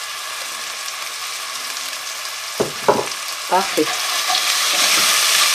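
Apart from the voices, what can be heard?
onions frying in olive oil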